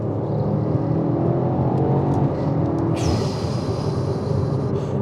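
BMW X5M engine revving hard under acceleration, a loud, sustained rising growl with a sharp whine joining midway as the gear changes, heard from inside the moving car.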